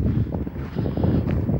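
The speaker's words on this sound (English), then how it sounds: "I wouldn't be surprised if you can hear me right now, because it's quite windy." Heavy wind buffeting the microphone with a low, muffled roar and uneven gusts, close and fairly loud.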